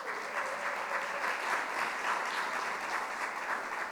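An audience at a keynote applauding: steady, dense clapping from many hands fills the room evenly at moderate loudness, with no break throughout.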